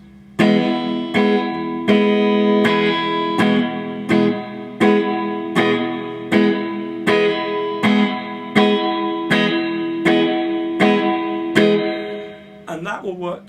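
Acoustic guitar strummed on the offbeat at a brisk tempo in a blues rhythm, steady evenly spaced chord hits ringing for about twelve seconds, close and fairly loud, ending with a brief scratchy flourish.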